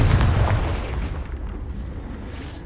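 A Confringo blasting spell explodes in Hogwarts Legacy on PS5, one heavy booming blast with a deep rumbling tail that fades steadily over a couple of seconds, loud and close, no voices.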